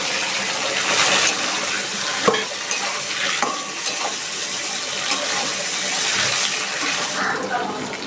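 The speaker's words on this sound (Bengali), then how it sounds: "এবার আমি আলুগুলো দিয়ে দিচ্ছি।" Potatoes tipped into a pan with a little water for a rohu fish and pointed gourd curry with chui jhal: loud close sizzling and stirring, watery sloshing and a few sharp clattering knocks.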